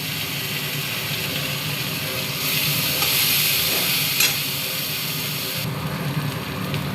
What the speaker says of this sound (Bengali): এই তেলেই দিয়ে দেব একটু জিরে ফোড়ন, আর দেব একটু পেঁয়াজ বাটা।